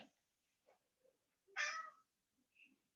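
A house cat gives a single clear meow in a quiet room during a yoga class, with a few faint soft sounds before and after it.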